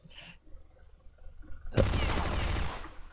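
Counter-Strike gunfire: after a quiet stretch with faint scattered noises, a sudden loud burst of rapid shots breaks out and keeps going to the end.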